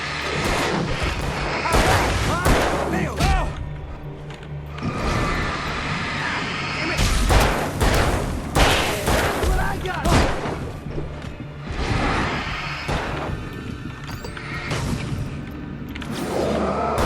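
Bursts of gunfire and heavy booms from the video game Alan Wake come in clusters, loud and close, with short lulls between volleys and some voices mixed in.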